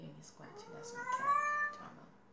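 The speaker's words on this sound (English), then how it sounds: "cat meowing ASMR" A pet cat meows several times in a close, quiet indoor setting, with soft rising and falling calls, faint scratching and light breathy voice sounds around it.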